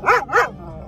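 Dogs bark twice in quick succession beside a road, close and fairly loud, with a quieter yip trailing off afterward.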